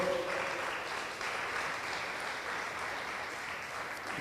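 A church congregation claps steadily throughout, a dense, even patter of many hands during a worship service, with no break in the sound.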